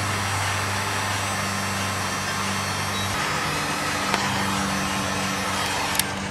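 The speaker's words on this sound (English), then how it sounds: "Taking my heat gun and just wrapping it around." A heat gun shrinks heat-shrink tubing over a repaired negative battery terminal cable on a 2002 Mitsubishi Lancer. Its steady, close blowing drone runs throughout, its low hum shifting partway through, with a small click near the end.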